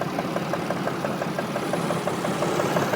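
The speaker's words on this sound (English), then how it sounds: "We can get the engine to run longer now." A Mercedes GL350 engine runs steadily after a crank-no-start fault and a clogged exhaust, with a loud, even idle and a fast rhythmic ticking knock pulsing throughout.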